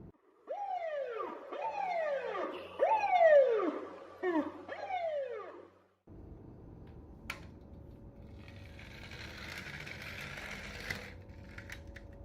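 A toy ambulance siren wails in repeated rising and falling sweeps for several seconds, then gives way to electronic buzzing and clicking.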